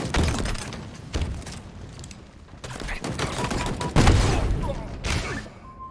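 Rapid bursts of automatic gunfire in the multiplayer shooter Halo Infinite, loud and close, with crackling volleys and brief pauses and a heavy burst near the end.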